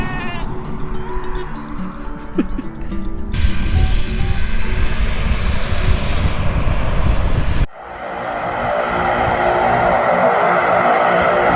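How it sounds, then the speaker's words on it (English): A propeller plane at Barra Airport's beach runway drones loud and steady, with a sheep bleating nearby early on before the engine noise cuts abruptly and a lower hum continues. "our plane has just landed, ready to take us back to Glasgow"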